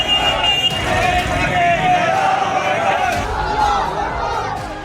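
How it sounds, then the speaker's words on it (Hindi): A large crowd of Eid worshippers outside an Eidgah in Moradabad chants Takbir slogans, with loud massed voices shouting together over a background of traffic noise. "ईदगाह के बाहर नमाजियों की भीड़ नाराए तकबीर देने लगी"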